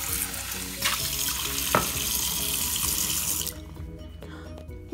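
A sink tap runs at full flow with water splashing steadily for about three and a half seconds, then shuts off, leaving faint drips and quiet room sound.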